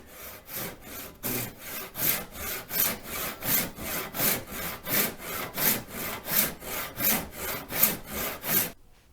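A hand saw cuts through wooden posts for a scrap-wood garden bench, making a steady, close back-and-forth rasp of about twenty even strokes that stops suddenly at the end.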